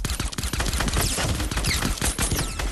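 Rapid pistol gunfire from the video game Fortnite, a dense run of sharp close shots crackling almost continuously across the whole moment with no pauses.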